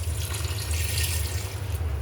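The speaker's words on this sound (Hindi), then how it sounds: "इसमें अब थोड़ा सा पानी ऐड कर देंगे" Water pours steadily into a pot of dal gosht cooking in ghee on a home stove, a continuous close splashing fill with a low hum beneath, no talk.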